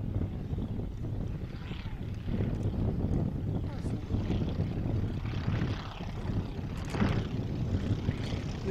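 A vintage two-seater open-cockpit aircraft flies overhead at an airshow, its propeller engine droning steadily at moderate distance in a crosswind while a commentator talks over it.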